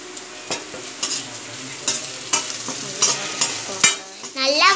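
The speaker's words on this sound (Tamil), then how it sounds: "நல்லா வதக்கிக்கோங்க." Onions and vegetables sauté in a pan for chicken fried rice, a steady close sizzle broken by repeated spatula scrapes and clanks, ending with a brief high chirping squeal.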